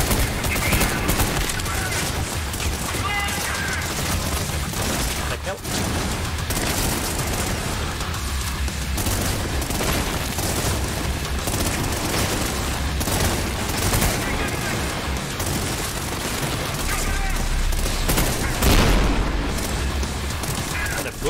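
Grenade explosions and bursts of gunfire from the first-person shooter Trepang2 form a dense, continuous barrage of booms and rapid shots, loud and up close, with a player's voice talking over the action at times.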